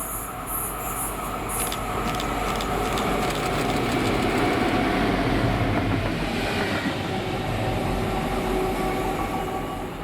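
Class 68 locomotive 68047 rolls past at night on the Craigentinny to Tyne working, towing class 66 locomotive 66738, making a loud, sustained rumble with steady wheel clatter across the whole stretch and no voices.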